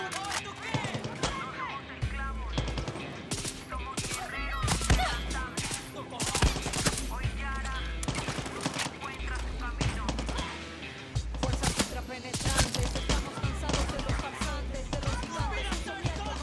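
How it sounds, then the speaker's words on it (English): A gun in the shooter game Far Cry 6 fires in rapid bursts, loud cracking volleys with heavy thumps that repeat throughout, over game music. "I think this gun actually works better as a burst weapon."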